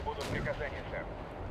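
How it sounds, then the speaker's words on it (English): Two T-80 tanks fire their cannons in the Cold War strategy game Wargame: European Escalation, heard as sharp booming blasts with rumbling tails, one after another, over a steady battle din. "Two T-80s are getting ready to fire here. Two direct hits, beautiful."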